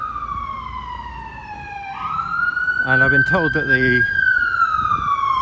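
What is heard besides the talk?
London emergency vehicle siren passing a station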